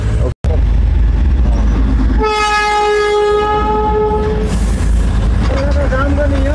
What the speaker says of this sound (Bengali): এই সেই ব্রিটিশ আমলের, ব্রিটিশ পিরিয়ডের ট্রেন